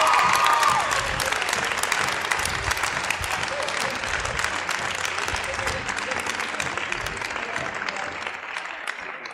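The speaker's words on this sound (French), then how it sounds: "On peut l'applaudir en effet." Sustained audience applause at a theatre revue, loud and dense at first, then continuing steadily for about nine seconds with some voices mixed in.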